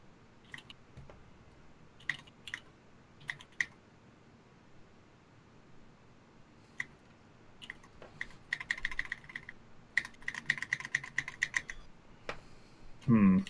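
Keys clacking on a mechanical keyboard fitted with a plate, first as sparse scattered presses, then as denser bursts of quick typing, moderately close, with a louder knock at the very end.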